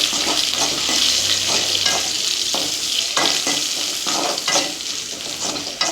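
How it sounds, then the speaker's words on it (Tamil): Dried red chillies fry in oil in a clay pot, a loud close sizzle broken by repeated stirring scrapes and knocks at an uneven rhythm, with no talking. "நல்லா பொன்னிறமாக வறுபட்டு வந்ததுக்கப்புறமா நம்ம காஞ்ச மிளகா சேர்த்துக்கலாம்"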